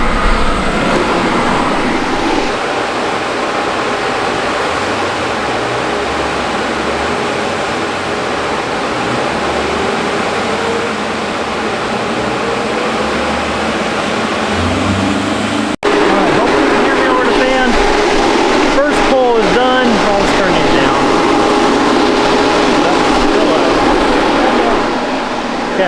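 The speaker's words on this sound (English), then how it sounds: "So let me turn these fans on, and we'll get to it." Large dyno cooling fans roar steadily beside a Honda EM1 engine on the dyno, a loud broadband rush that jumps in level partway through, with a voice talking over it.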